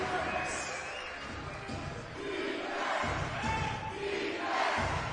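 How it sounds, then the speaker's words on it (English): A basketball crowd at a British league game between Plymouth Patriots and Manchester roars on its feet, a broad sustained swell of cheering heard at a distance while a commentator talks over it. "And the crowd is on its feet."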